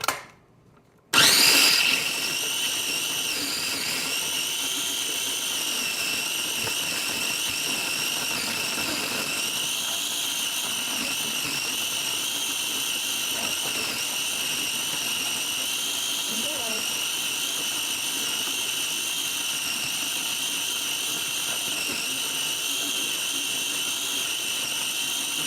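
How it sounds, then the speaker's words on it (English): Food processor running steadily on its grind setting, blending basil pesto with Parmesan, a continuous loud whirring motor drone that starts abruptly after a brief silence and holds for the whole stretch. "let's go on to the grind function next"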